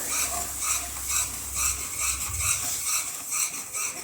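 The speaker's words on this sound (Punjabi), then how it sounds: "ਤੇ 2-3 ਮਿੰਟ ਵਾਸਤੇ ਆਪਾਂ ਇਸ ਤਰ੍ਹਾਂ ਹੀ ਦੁੱਧ ਪਾ ਕੇ ਇਹਨੂੰ ਭੁੰਨਾਂਗੇ" A spoon stirs gram flour halwa roasting with milk in a pan, giving rhythmic scraping strokes about every half second over a soft sizzle, close and steady.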